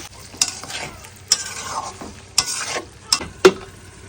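Eggs and fritters dropped into curry masala sautéing in a pan, a constant sizzle broken by five sharp spoon scrapes and knocks against the pan at irregular intervals, close and loud.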